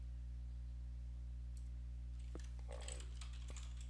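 Keys tap in a short, quick burst on a computer keyboard, faint and close against a steady low electrical hum, while a text title is typed into a graphic design layout.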